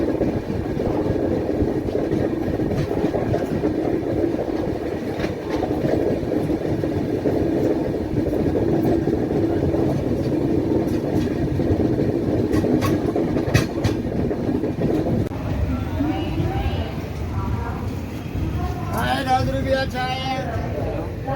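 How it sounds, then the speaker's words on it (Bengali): Azad Hind Express passenger train rolling on rails, heard from inside as a loud continuous rumble with clicking wheel beats; a voice talks over it toward the end. "বন্ধুরা দেখুন আমাদের ট্রেন কত সুন্দর একটা কার্ভ নিচ্ছে"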